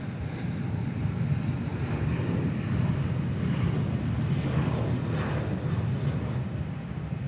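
Qantas airliner departing Perth Airport on runway 03 for Brisbane, a steady broadband jet roar holding at an even level throughout, rumbling and constant at moderate distance with no talk.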